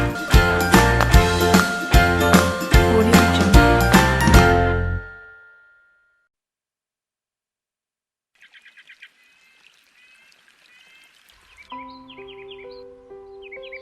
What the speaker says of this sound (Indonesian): Kicauan ini terancam tak terdengar lagi